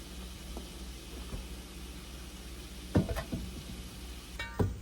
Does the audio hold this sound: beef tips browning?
yes